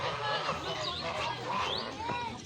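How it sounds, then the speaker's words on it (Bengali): Geese give short honking calls several times, mixed into the steady murmur of people talking close by. "রাজহাঁস"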